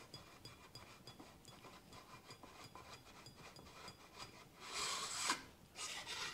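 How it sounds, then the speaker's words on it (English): Barrel of an LCS SK19 air rifle being unscrewed, a close, faint rasping and rubbing of threads that grows louder with a couple of bursts near the end. "simply unscrew your barrel."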